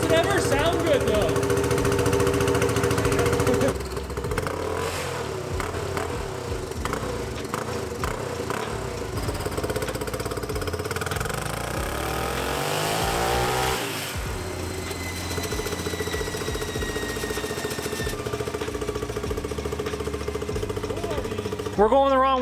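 A racing lawn mower billed as the world's fastest, making about 40 horsepower on a dyno pull, its engine revving in rising and falling whines alongside clattering mechanical noise, with voices talking over it.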